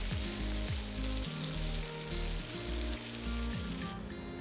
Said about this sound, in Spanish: A fuego bajo vamos a ir removiendo de vez en cuando hasta que se poche la cebolla.